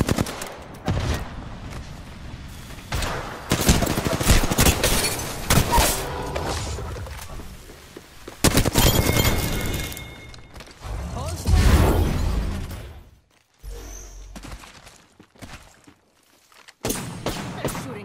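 Rapid video game gunfire in bursts, loud crackling volleys broken by short pauses and quieter gaps, with mechanical clicks and reload sounds and some in-game voice in places.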